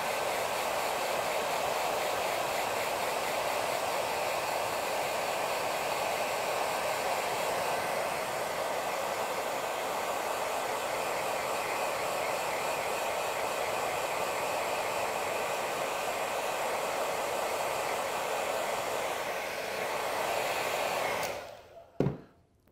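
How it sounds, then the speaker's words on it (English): A hair dryer blows a steady, loud hiss close by while drying paint on a painted figure, running continuously before cutting off near the end. "I'm just going to hair dry it to speed up the drying process"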